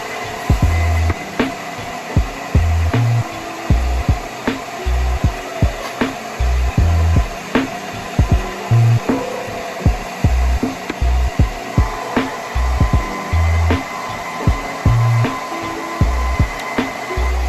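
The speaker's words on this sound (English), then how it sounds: "I got my dryer and my dryer holder over here." A hair dryer blows steadily while slicking back edges for a wig install, its motor whine constant and close, cut by rapid repeated knocks and bursts as it is moved around.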